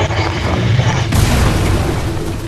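A loud explosion in the Fortnite Chapter 4 Season 2 video game, a sudden dense boom that bursts in about a second in and sustains a heavy rumbling roar through to the end.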